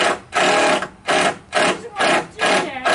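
A power drill drives screws into reclaimed floorboards in a treehouse room, loud and close, running in four or five whirring bursts separated by short pauses.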